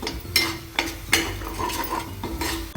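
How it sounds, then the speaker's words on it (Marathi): Dry fruits being stirred and sautéed in a pan while making sweet coconut rice: a utensil clinks and scrapes against the pan several times over a steady soft sizzle, close by, with no talk. "ड्रायफ्रूट टाकले मी, ते पण थोडे त्यामध्ये असे परतून घ्यायचे।"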